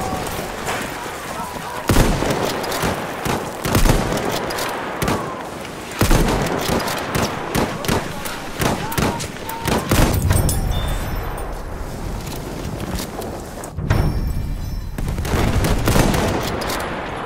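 Machine gun fire in the video game Battlefield 1, loud, dense bursts and rapid gunfire volleys with explosions and battlefield chaos throughout, broken by brief pauses.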